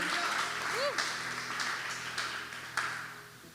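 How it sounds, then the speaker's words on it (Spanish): A church congregation applauds during a service, steady clapping from many people with a voice and musical tones running over it, and a few sharper bursts of claps. "Da un aplauso a Jesús, Gloria."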